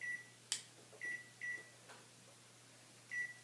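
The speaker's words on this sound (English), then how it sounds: "you start a timer for 5 minutes" A kitchen timer being set for tea steeping gives a few short, faint electronic beeps spaced irregularly, with one sharper click, heard alone in a quiet room.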